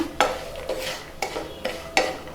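A spoon stirs homemade instant puliyogare powder with salt in a pan, giving four or five distinct scraping clinks at a loose, uneven rhythm, close and moderately quiet.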